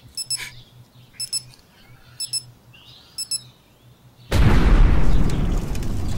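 Bridge demolition blast in the game Blaster Simulator: four quick bursts of electronic countdown beeps over a quiet hum, then a sudden loud explosion with a sustained roar of crumbling debris.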